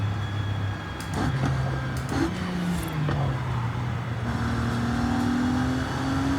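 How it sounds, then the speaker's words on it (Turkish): A twin-turbo W12 Bentley Flying Spur in Forza Horizon 5 roars steadily and loudly, its engine note climbing and shifting through several gear changes with no voices over it. "acayip böğürmüyor mu araba? Mükemmel böğürüyor ya."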